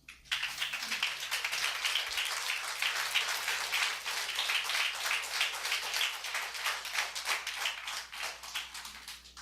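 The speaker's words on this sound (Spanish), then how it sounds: "Aplaudo al Señor." A church congregation applauds together, a dense, steady patter of many hands clapping that carries on for about nine seconds without a break, with no voices over it.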